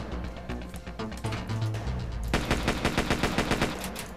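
Video game gunfire in Dex: a few scattered shots, then a rapid sustained burst of automatic fire, loud and sharp with fast rhythmic cracks.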